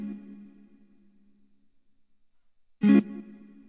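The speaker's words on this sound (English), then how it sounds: "I went back to the guitar, I recorded a chord, and just cut it down to a tiny transient" Recorded guitar chord cut down to a tiny transient, used as a lo-fi beat layer: a single short, bright pluck after a faint fading tone, alone and quiet.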